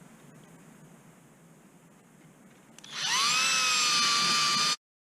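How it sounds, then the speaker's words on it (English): Quiet background hiss, then a power drill running a number 30 reamer through holes in an RV-14A aircraft vertical stabilizer spins up sharply with a high whine, runs steadily for about two seconds, and cuts off abruptly. "We're just gonna use the number 30 reamer on all these holes."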